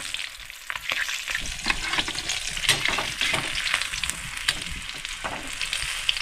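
Barracuda fish pieces fry in hot oil, a dense continuous sizzle and crackle with occasional scraping from a turner, close and steady without speech.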